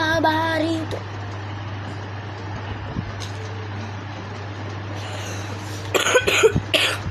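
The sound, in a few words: cough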